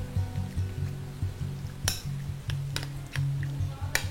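A spoon stirring four-citrus jam with orange zest into a pastry filling, soft rhythmic scraping and low churning close by, with a few sharp clinks of utensil against the bowl.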